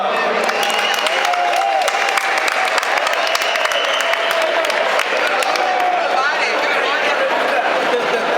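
An audience at a raffle draw claps steadily for a young girl, a dense, even spread of applause with crowd chatter and voices mixed through it the whole time.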